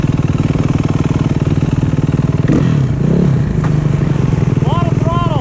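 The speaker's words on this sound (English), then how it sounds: "Lot of throttle." Snowmobile engine revving under heavy throttle during a spring blizzard, a loud, sustained, buzzing roar that swells and holds, with voices calling out near the end.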